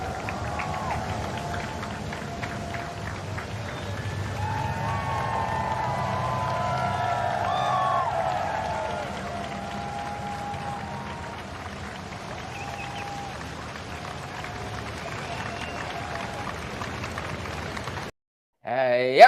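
A large crowd of spectators at a Buckingham Palace procession cheers and applauds in a continuous dense roar, a sustained distant wash of voices and clapping that fades slightly, then cuts off abruptly near the end.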